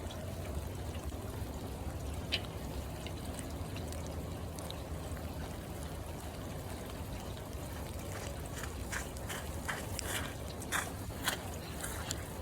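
Water runs at a bathroom vanity after its shut-off valves were replaced, a steady pouring trickle with faint clicks and knocks, low and continuous without talk.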